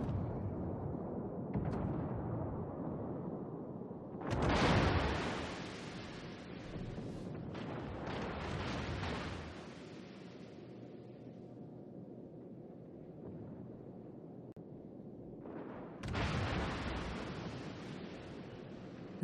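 Naval gunfire in World of Warships with HMS Hawkins, heavy booming blasts and long rumbling roars rising and fading among ocean and wind ambience, with no talk.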